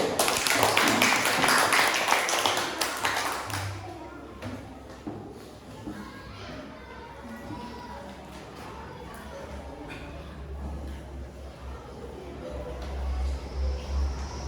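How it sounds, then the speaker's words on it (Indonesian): Students clapping together in an Indonesian classroom, a loud burst of group applause that fades after a few seconds into quieter room noise, shuffling and murmuring voices. "Iya, tepuk tangan dulu."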